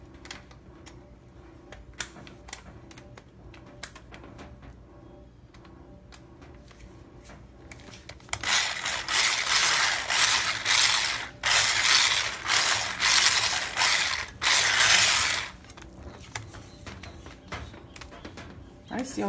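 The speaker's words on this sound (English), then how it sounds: "I'm gonna use my electric whisk" Electric whisk mixing an eggless pumpkin pie ponche creamer, running in a loud, steady whir for several seconds after quiet kitchen handling sounds, with brief dips as it pulses.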